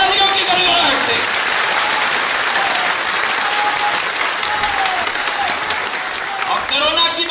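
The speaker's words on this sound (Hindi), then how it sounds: "पीछे वहां तालियों की गड़गड़ाहट से।" Thunderous, continuous clapping from a large political rally crowd gathered in a college auditorium in Gwalior, dense and steady for several seconds with crowd noise underneath.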